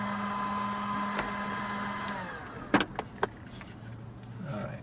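A cigarette-lighter AC inverter whirs like a hairdryer with a steady tonal hum and whine that cuts out partway through. A few sharp clicks and knocks follow over a quieter background.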